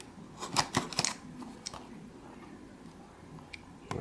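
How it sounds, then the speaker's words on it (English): A box cutter slicing packing tape on a cardboard box, with several quiet, sharp ticks and scrapes clustered near the start and a few isolated clicks later, close but faint. "I'm going to go ahead and cut the tape on this thing. Got my little box cutter."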